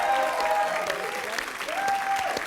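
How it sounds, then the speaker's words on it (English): A studio audience claps and cheers in a steady burst of applause on a dating game show, with a voice speaking over it. "Give them a nice round of applause for making it this far."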